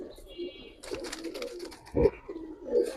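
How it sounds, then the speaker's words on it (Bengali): A pair of Arabian pigeons coo close by in low, soft bursts, two fuller calls standing out over a quiet, faintly noisy background. "জোড়াটা আরবি কবুতর"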